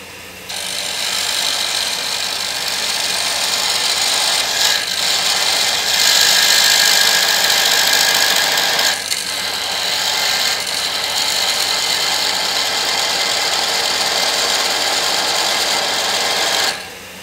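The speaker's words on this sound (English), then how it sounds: "I'm turning about 800 RPM" Wood lathe spinning at about 800 RPM while a small toy figure is turned and textured, giving a loud, steady, bright hiss and whir of the tool cutting, with brief dips and a sudden drop at the end.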